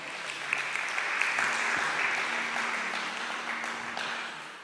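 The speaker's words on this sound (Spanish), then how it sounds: "Denle un fuerte aplauso ahí al Señor." A congregation at a church service applauds in a broad, steady wash of clapping that holds for several seconds at moderate level, with a low hum beneath and no talk.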